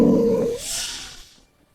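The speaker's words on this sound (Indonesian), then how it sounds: "Itu suara buaya. Pasti di atas sana." A giant crocodile lets out a deep, rumbling roar that rises into a harsh, hissing rasp, loud and close at first, then trailing off into quiet within about a second and a half.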